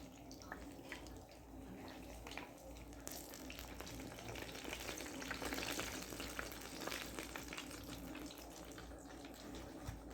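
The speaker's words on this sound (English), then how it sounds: "Some little sizzle ASMR." Soft, continuous crackling and sizzling of egg rolls frying in oil, faint and close, with scattered tiny pops throughout.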